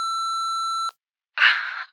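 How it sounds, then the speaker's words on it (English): A voicemail tone beep sounds as a steady pure electronic tone for almost a second, then silence, followed by a short burst of breathy noise. "please leave a message at the tone"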